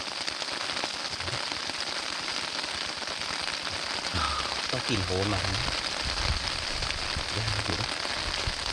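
Heavy rain pours down steadily during a storm in rural Thailand, a loud dense hiss throughout, with a voice talking briefly partway through.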